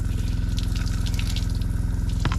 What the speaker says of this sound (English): Alright, out at the outdoor shower here. I'm going to turn this on.